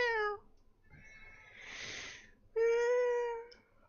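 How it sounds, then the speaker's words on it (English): A cat meows twice in Genshin Impact, a short bright call followed after a pause by a longer, louder, drawn-out meow, with a soft rushing noise in between. "Meow."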